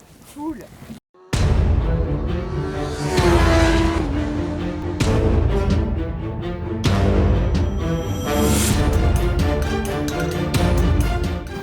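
Kawasaki ZX-10R 2021 motorcycle on the Dunlop development circuit, loud engine roaring and rising through repeated gear changes close by, after a short quiet gap at the start.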